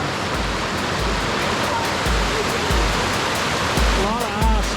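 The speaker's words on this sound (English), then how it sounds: "A lot of ice still on the waterfall." Steady broadband rush of a waterfall on a mountain creek in winter, its rocks and falls crusted with solid ice, loud and continuous throughout with a brief voice faintly heard near the end.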